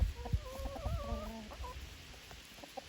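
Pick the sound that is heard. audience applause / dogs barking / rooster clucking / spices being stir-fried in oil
rooster clucking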